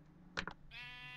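A sheep in Minecraft lets out a short stuttering two-part bleat, close and clear against quiet ambience, followed by a steady tonal hum.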